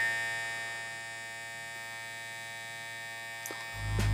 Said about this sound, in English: the corded version's a lot quieter, but that's to be expected with the different type of motor